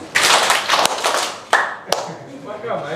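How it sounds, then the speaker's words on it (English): A conference audience claps hands in a few sharp, separate group claps, loud and close, with a voice talking between them. "Clap once, clap twice, clap 3 times."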